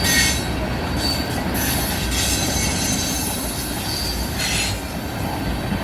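A freight train hauling crude oil tank cars rolls past close by, a loud, continuous rumble of wheels on rail with metallic squeals and faint rhythmic clatter throughout.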